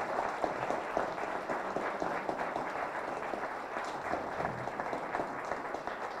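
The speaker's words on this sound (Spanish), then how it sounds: "Pido un aplauso para ellos" Sustained, dense applause from a large audience at a sports journalism award forum, steady and even throughout with no pauses, filling the room without speech over it.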